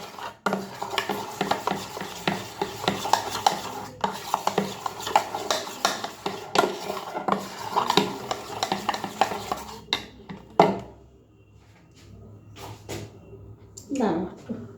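A spoon beating a mixture in a bowl, producing rapid, rhythmic clattering scrapes for about ten seconds, close and busy, followed by a few scattered clinks, with someone talking over it.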